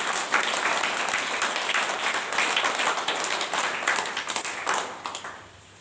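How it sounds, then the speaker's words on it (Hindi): A classroom of children claps together in sustained, dense applause, steady for several seconds before tapering off, with no talk over it. "तो तालियां हो जाएगा।"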